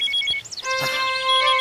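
A phone ringtone sounds as a steady electronic tone that starts partway through and carries on alone, with no talking, in a scene from a Bhojpuri action film.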